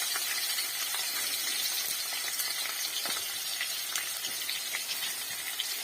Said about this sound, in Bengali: ওখানে আলুটাকে ভেজে নিই।